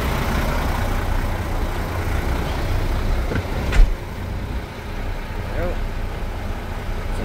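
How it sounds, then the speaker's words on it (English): A 2013 single-axle truck's engine rumbles steadily, heard from the driver's seat, with one short sharper throttle blip partway through before it settles back to a low idle. "Some throttle responses."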